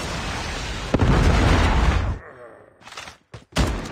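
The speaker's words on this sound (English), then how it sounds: "Predator missile inbound." A Predator missile strike in Call of Duty Mobile on the Rust map lands as a loud, close blast that roars for about a second before decaying, followed by sharp short bursts of gunfire.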